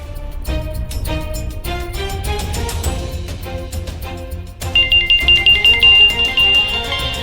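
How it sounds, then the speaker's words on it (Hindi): A melodic phone ringtone plays, a tinkling tune that grows louder and brighter partway through, with no talking. "लो, अभी की दादी का फोन।"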